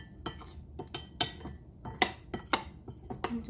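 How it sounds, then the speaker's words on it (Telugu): A ladle stirs batter thinned with water in a bowl, making a quiet string of irregular clinks and scrapes in uneven rhythm, with no voices. "కొంచెం వాటర్ వేసేసి దాన్ని గరిటె జారుగా కలిపేస్తాను."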